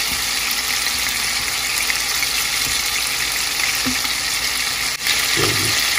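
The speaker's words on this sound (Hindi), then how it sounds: "2 से 3 मिनट में हमारी कबाब की एक साइड फ्राई हो गई है।" Beef gola kababs fry in a pan with a loud, steady, close sizzle throughout, broken by a brief soft clatter near the end, with no voices.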